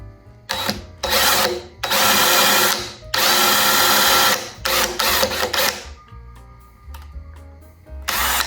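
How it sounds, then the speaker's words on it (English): A power drill pre-drills holes for a closet fitting, whirring in loud, close bursts of varying length, stopping and starting several times, with a quieter stretch before one last short burst. "So I need to pre-drill these holes."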